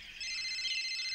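An electronic telephone ringtone plays as a steady, bright chime after a brief quiet start. It sounds clear and close, with no talk over it.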